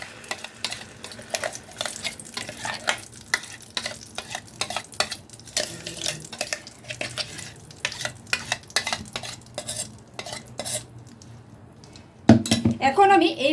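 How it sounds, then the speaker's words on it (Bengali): Mung dal paste being stirred in melted ghee in a pan, a steady soft sizzle with repeated scraping of a spatula, close up and under occasional talk, ending in a louder clatter. "মুগ ডালটাকে ঘিয়ের মধ্যে একটু মিশিয়ে দেব"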